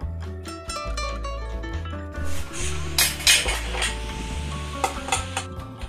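Sauce for salmon teriyaki being stirred and mixed firmly in a bowl, with a run of close clinks and scraping from the utensil against the dish, busy and continuous over steady low background music.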